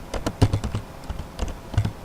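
A search is being typed on a computer keyboard, a quick run of close, clicky keystrokes with a brief pause in between and no talking.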